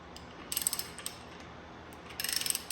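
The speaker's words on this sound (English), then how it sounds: "you can see how nice this crankshaft moves." Turning the crankshaft of a 455 engine produces two short runs of quiet, close mechanical ratcheting clicks against a soft background hiss.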